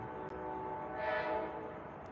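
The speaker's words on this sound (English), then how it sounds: "Here comes the train, y'all." A train rolls past with a steady rumbling rush that swells and fades over a couple of seconds, its horn blending into the sustained noise; no one speaks.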